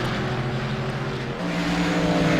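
A race car roars past on the track, the engine loud and close, its note dropping as it goes by and another engine rising right behind.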